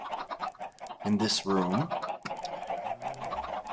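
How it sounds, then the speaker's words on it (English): Minecraft chickens clucking in a video game, a few soft clucks and squawks close by, mixed with a speaking voice. "Are none of you chickens laying eggs?"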